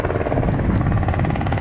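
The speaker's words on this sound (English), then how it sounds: "We got another helicopter." Helicopter flying near Long Beach airport, a loud, close, steady rotor chop with a rapid pulsing beat and no talking.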